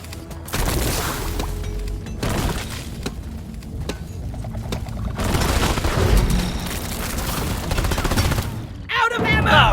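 Gunfire in the sci-fi mining game Deep Rock Galactic, with sustained rapid shots and booming hits in dense continuous bursts, loud and close, occasionally broken by short pauses, with some speech mixed in.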